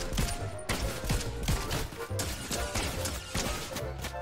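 Gunfire in Fortnite striking the player's character: dense bursts of sharp, cracking impacts follow one another quickly at moderate loudness, with no talk over them.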